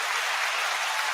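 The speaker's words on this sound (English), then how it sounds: "The applause doesn't stop." Dense, steady applause from an audience at a team check-in session, a continuous even clatter of many hands clapping with no break.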